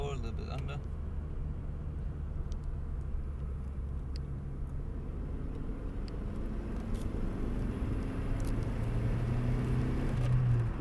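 Car engine pulling hard in third gear from 50 to 100 km/h, a steady low rumble with turbo boost building, close and continuous, swelling slightly louder toward the end.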